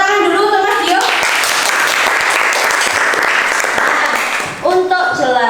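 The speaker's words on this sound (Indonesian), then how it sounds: "Beri tepuk tangan dulu untuk Mas Dio." A classroom group claps for a participant named Mas Dio during a teacher-training session. The dense clapping runs through the middle, and a voice speaks briefly before and after it.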